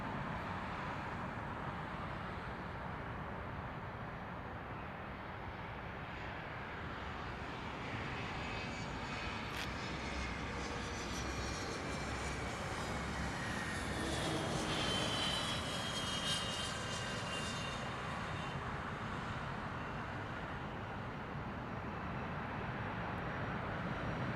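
A Gulfstream G280 business jet roars steadily at Long Beach Airport, a broad continuous engine rumble and whine at moderate distance that swells slightly midway, with no talking.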